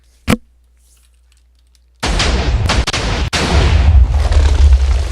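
A TNT cannon fires in the video game Minecraft: one short sharp pop, then a loud, sustained roaring blast with a brief dip partway through, close and full.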